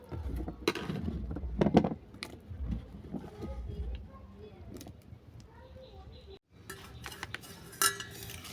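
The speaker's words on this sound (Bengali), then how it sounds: "এটাকে ভালো করে নেড়ে ছেড়ে আমি একটা ডিশ ঢেকে দিলাম" A spoon stirs a cumin curry with peanut fritters, potatoes and vegetable stalks in a pan, then a dish is set over it as a lid, making close scraping and clinking metal sounds under a voice in the background.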